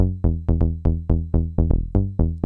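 A Serum synth bass, a trance bass, with envelope 1 driving the filter cutoff, plays a steady run of plucked, harmonically rich notes, each snapping open bright and decaying fast, loud and alone with no talk.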